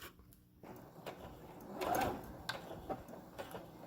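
A sewing machine stitches through a three-layer fabric face mask with a low mechanical whir that swells to a louder run near the middle, with soft clicks and handling noise around it.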